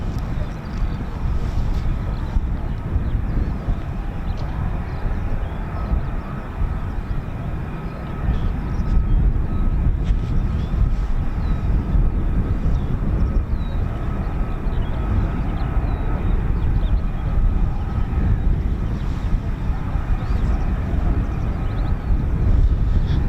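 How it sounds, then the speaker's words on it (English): F-35B stealth fighter jets landing with 809 Naval Air Squadron, 617 and 207 Squadron give off a continuous loud broadband roar that swells slightly partway through, steady and distant-to-mid range with no speech. "So the F-35s that have just landed are hot pitting from the looks of things"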